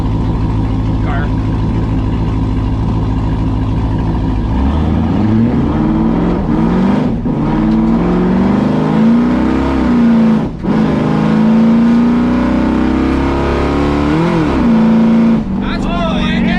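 A Ford Fox Body Mustang engine revs and pulls away, loud and close, its pitch rising and falling through several throttle blips while people talk over it.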